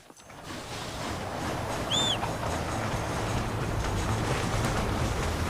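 A steam-era train in the Red Dead Redemption video game rumbles along steadily, a low continuous rolling drone with a brief high whistle-like squeal early on, no speech.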